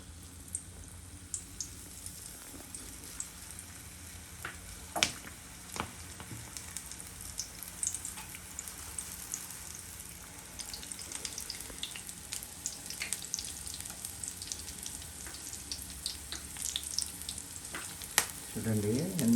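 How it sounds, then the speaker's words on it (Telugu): Green chillies frying in oil for mirchi bajji give a steady sizzle and crackle, close and continuous, with occasional clinks and pops and stirring sounds toward the end. "ఇప్పుడు మేము మిర్చీలు వేస్తున్నాం."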